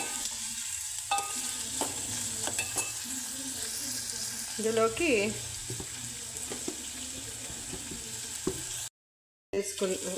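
Food fries in a pan with a low continuous sizzle, broken by repeated scraping stirs of a spoon against the pan, close and moderately quiet, ending with a brief cut to silence.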